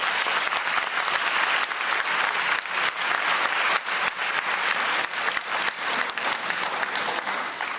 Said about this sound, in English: Let's have a round of applause for Izzy Monclossi.